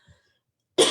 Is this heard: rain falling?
no